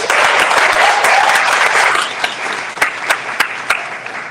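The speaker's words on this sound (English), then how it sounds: "So let's give them a big clap." An audience at a Virginia small business celebration gives a round of applause, thick and steady at first, then thinning into a handful of scattered, separate claps.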